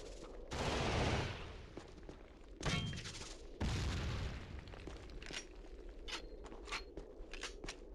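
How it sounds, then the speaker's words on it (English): Grenade pistol firing in a video game: a loud explosive blast followed by a couple more booming shots and detonations, then scattered sharp clicks and mechanical clatter, fairly distant and low in level. "And here's the grenade pistol."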